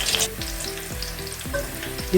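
Continuous close sizzling of onions frying in oil for a crispy spinach fry, with rhythmic scraping and stirring sounds every half second or so.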